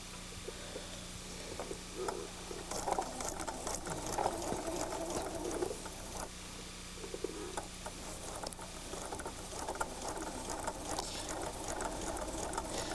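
A sewing machine stitching quilt pieces for a log cabin block, its needle running in a soft rapid patter with fabric handling noises, steady and moderately quiet behind a faint hum.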